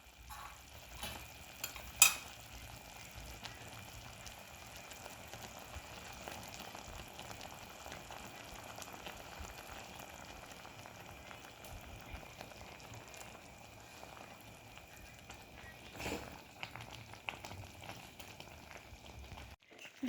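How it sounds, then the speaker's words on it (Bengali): Curry gravy for begun sundari bubbling steadily in a pan after fried eggplant pieces go in, a soft continuous simmer and sizzle with a few louder knocks and clatters of the pot. "ঝোলটা ফুটে উঠেছে। এর মধ্যে দিয়ে দিচ্ছি ভেজে রাখা বেগুনগুলো।"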